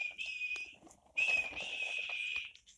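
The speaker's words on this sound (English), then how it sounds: "And he blew his whistle." Steam locomotive whistle sounds twice, a short high toot followed by a longer one, moderately loud against faint background clatter.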